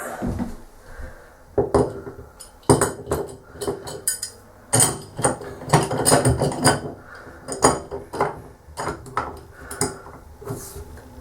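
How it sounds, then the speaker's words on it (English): A wrench or spanner clinks and knocks against metal while working on a bathroom tap, giving a string of close, irregular sharp taps and clatters with brief pauses between them. "Now what I'm going to do is get a wrench or a spanner."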